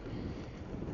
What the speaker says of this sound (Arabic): اليوم مواجهني الريح مجهد شي شويه